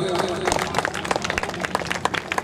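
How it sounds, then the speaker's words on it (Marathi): An audience at the opening of the Ratnagiri festival in Ratnagiri city claps loudly and continuously, dense close applause from a crowd, with a voice audible beneath it at the start. "आपण सर्वांनी जोरदार टाळ्या वाजवून महोत्सवाचं स्वागत करायचं आहे"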